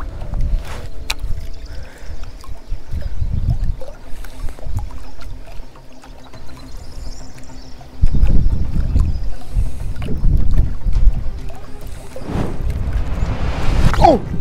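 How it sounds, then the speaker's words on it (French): Headwind buffets the microphone with a low, gusty rumble over clear open water while bass fishing in a sunken forest, strengthening in the later half, with occasional light knocks nearby. "On a un joli vent de face."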